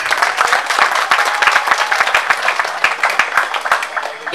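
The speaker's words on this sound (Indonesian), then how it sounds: "Tepuk tangan kepada anak-anak kita." A crowd at a Qur'an school arts performance and torch parade claps for the children: loud, close, slightly uneven applause with distinct individual hand claps popping out of the dense patter throughout.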